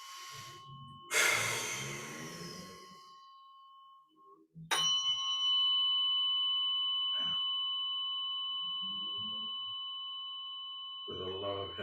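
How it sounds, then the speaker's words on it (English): A single deep breath, close and fairly loud, during a relationship therapy session, followed by a struck chime whose clear tone rings on and slowly fades, with a few soft breathy sounds under it. "So take a breath."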